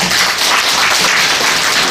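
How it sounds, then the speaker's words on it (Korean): An audience at a lecture applauds steadily, a dense, even wash of many hands clapping at close range with no pauses. "다시 한번 박수 부탁드리겠습니다"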